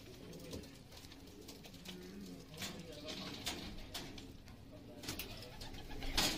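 Teddy breed pigeons in a breeding setup coo softly over background noise, with a voice speaking faintly and the bird calls rising slightly near the end.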